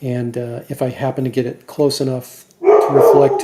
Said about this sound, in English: Apologies for the dogs barking in the background.